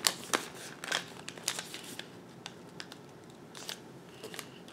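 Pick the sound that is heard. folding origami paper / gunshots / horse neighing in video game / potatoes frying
folding origami paper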